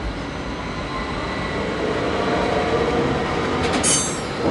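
A railway wheelset on a standard-gauge bogie is lifted off the pit onto a transporter bogie at a gravel train maintenance site, giving a steady loud mechanical rumble with hiss and a brief high metallic squeal near the end.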